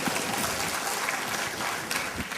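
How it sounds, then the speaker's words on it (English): Audience applause at an information security technical talk, a dense, steady burst of many hands clapping together, fairly loud and filling the whole moment without speech. "we should have a huge round of applause for all those penetration testers"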